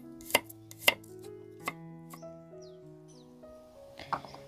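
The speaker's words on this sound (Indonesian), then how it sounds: "Lanjut kita ke bawang merah dan juga bawang putihnya, diiris-iris seperti ini." Shallots and garlic are sliced with a knife on a cutting board during home cooking, giving a few sharp, close chopping taps spaced irregularly over soft background music.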